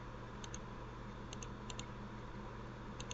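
Keyboard emulator keys tapped out to type a short word, a few soft clicks in two-stroke clusters over a steady low hum.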